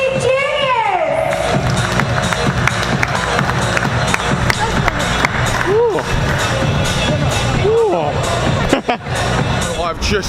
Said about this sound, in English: A big round of applause and welcome